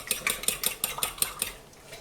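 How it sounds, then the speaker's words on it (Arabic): A whisk beats eggs, salt, garlic powder and cream for a quiche filling in a bowl, making a quick, even run of close metallic clinks against the sides that fades slightly toward the end, with no talking. "غادي نخلط الكل مزيان"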